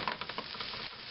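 A flattened corned beef hash patty fries in a pan, giving a steady close-up sizzle with soft crackling pops throughout and no talking.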